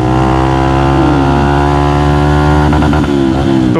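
A Honda CB trail motorcycle engine runs loud and close with a buzzy, steady drone, wavering slightly in pitch near the end.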